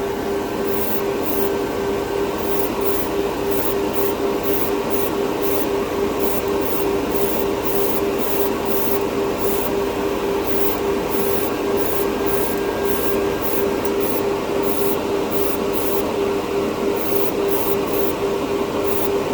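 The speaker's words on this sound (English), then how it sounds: "Man, this airbrush is just terrific." Airbrush spraying orange MCW enamel model paint gives a steady, continuous airy hiss with faint pulsing, close and even for the whole stretch, with no talking.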